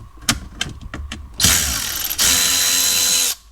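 Bolts being undone on a Mercedes CLK W209 flap actuator during dashboard removal, a few sharp clicks and knocks followed by two sustained bursts of a power tool whirring nearby.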